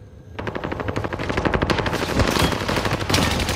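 Rapid automatic gunfire from a Modern Warfare Warzone match rattles close and loud in a sustained burst of fast, evenly spaced shots, with no voices over it.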